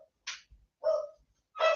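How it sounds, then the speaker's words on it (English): Dogs bark in a few separate close, sharp bursts with short gaps of silence between them, with no talking. "Let me just wait for the dogs to stop."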